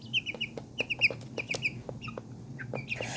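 Chickens from a cross between Polish chickens and pheasants cluck in a quick run of short, bright calls. The calls sound close and come in small bursts, with a soft farmyard murmur underneath and no speech.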